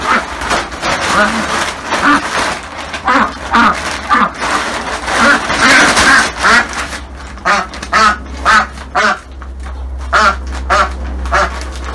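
Ducks quack repeatedly and loudly nearby while a person talks over them.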